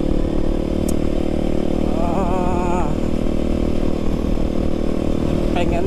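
A Kawasaki D-Tracker 250 motorcycle engine running cold, a steady close mechanical drone with a brief rising and falling rev wobble in the middle, and a voice speaking over it.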